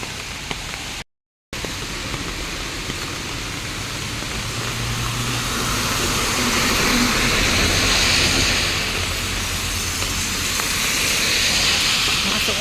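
Heavy rain pours in a steady, dense hiss that swells slightly louder midway, with a low rumble underneath and no clear talking.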